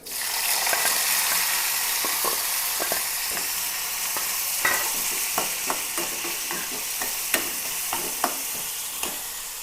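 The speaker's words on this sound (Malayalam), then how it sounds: "ചട്ടി വെച്ചിട്ടുണ്ട് എണ്ണ ഒഴിച്ചിട്ടുണ്ട് നമുക്ക് ഇതിലേക്ക് ഉള്ളി സവാള പച്ചമുളക് ഒരു പച്ചമുളക് ഇഞ്ചി വെളുത്തുള്ളി എല്ലാം ഇട്ട് കൊടുക്കാം" Chopped onion, shallot, green chili, ginger and garlic sizzle in an oiled pan: a dense, steady hiss of frying with occasional sharp clicks and scrapes of stirring, close and loud, with no voices.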